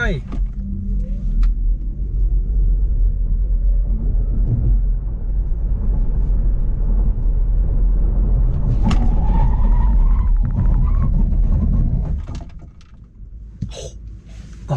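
An MG4 Electric rear-drive car pulls hard from a standstill toward 100 km/h with a rising motor whine and road rumble, then brakes sharply and settles near 12 seconds, heard from inside the cabin.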